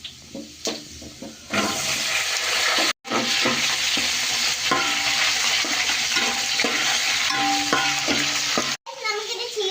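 Ginger and chili frying in hot oil for pickle, a loud continuous crackling sizzle with stirring scrapes and clatters, starting after a few quiet knocks and running steadily.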